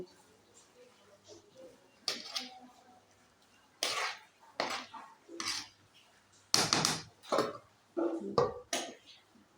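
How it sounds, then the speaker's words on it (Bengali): A spoon scrapes and clanks against a pot while parboiled-rice bhuna khichuri is turned over, in irregular bursts of metallic knocks with quiet gaps between them, close by. "এ পর্যায়ে আমি ঢাকনাটা উঠিয়ে এভাবে একটু উল্টিয়ে পাল্টিয়ে নাড়তে হবে নিচেরগুলো উপরে উপরের গুলো নিচে"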